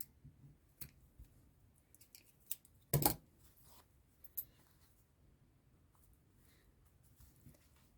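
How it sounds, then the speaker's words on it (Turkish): Scissors snip crochet yarn during an amigurumi project, giving one sharp, close cut in a quiet room, set among faint rustles and light clicks. "İpimi kesiyorum."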